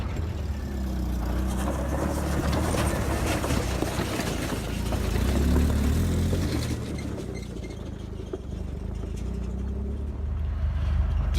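A Jeep driving along a rough dirt road near Stanley, Idaho, its engine droning steadily with constant low rumble and rattling from the uneven surface, loud and close throughout.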